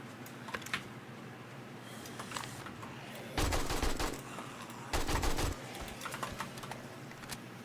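Gunfire from the zombie survival game 7 Days to Die rattles out in two rapid bursts of a second or less over quieter background game sounds, with sparse clicks between them.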